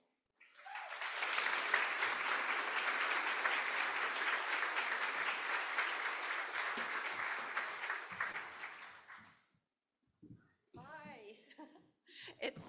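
An audience applauds steadily for about nine seconds to welcome author Maria Semple at a library-supported talk, the clapping dense and even before fading out, followed by a brief voice and shuffling.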